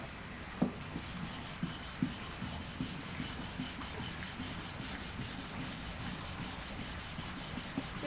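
A wooden floor being sanded, with a steady, close, continuous abrasive rubbing hiss and occasional small knocks throughout, no voices.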